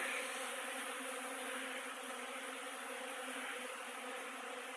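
Buckfast honey bees fly around the hives of an apiary, a dense, steady buzzing drone of many insects close by that holds constant throughout.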